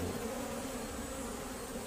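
A dense, continuous buzzing hum rises from a dwindling honeybee colony at its hive, loud and close with no pauses or voices.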